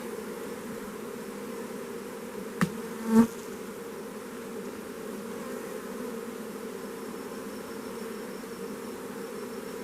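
Honey bees buzz steadily at low volume during a beehive inspection, a constant droning hum with two brief faint clicks near the start.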